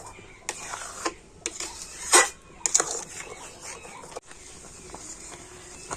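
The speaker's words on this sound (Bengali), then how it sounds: "তো আমি এইভাবে কন্টিনিউ নাড়াচাড়া করে নেব" A sweet mixture is stirred in a pan on medium heat, with intermittent scrapes and light clinks of the spoon against the pan, close and fairly quiet over a soft background hiss.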